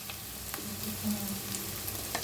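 Turmeric sizzles in hot oil, a steady close frying hiss with a few faint stirring clicks and no voices.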